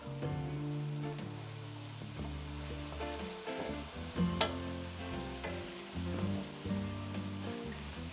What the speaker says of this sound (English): we're going to cook that until the mushrooms have gotten a little soft